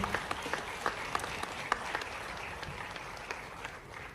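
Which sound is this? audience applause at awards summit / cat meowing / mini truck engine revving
audience applause at awards summit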